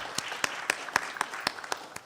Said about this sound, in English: Let's give a big applause to Isabel